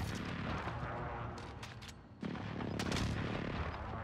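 Called-in strike explosions in Call of Duty Modern Warfare, heard as a dense, steady barrage of booms and gunfire-like cracks that eases briefly, then returns louder after a sudden jump in intensity.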